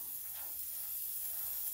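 An airbrush sprays shimmer paint onto the belly of a crankbait lure, making a faint, steady airy hiss that continues throughout without a break.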